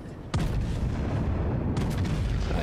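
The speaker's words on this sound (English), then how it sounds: "I'm just going to fire a couple of turrets just to make sure." Warship turrets firing in World of Warships, two heavy booming salvos, the first sharp and sudden, the second following about a second and a half later, each leaving a rumbling tail of sustained noise.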